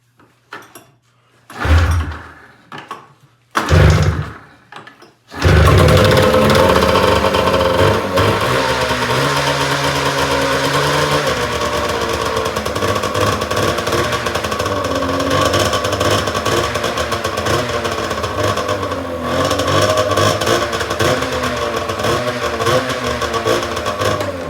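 A cheap Polaris XC snowmobile engine cranks in a few short bursts, then catches and runs continuously at a loud, steady idle with slight rev fluctuations, close by.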